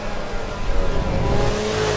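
A race car engine in the Assetto Corsa EVO driving game roars while the car slides, a loud, continuous revving drone with shifting pitch and no voices over it.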